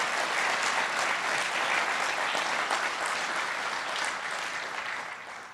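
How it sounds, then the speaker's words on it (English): Sustained, full applause from a ceremony crowd for Alumni Achievement Award honorees, thick and even before tapering off slightly at the end. "if we might do another round of applause for our incredible Alumni Achievement Award honorees"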